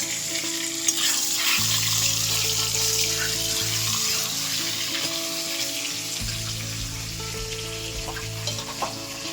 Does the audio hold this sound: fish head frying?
yes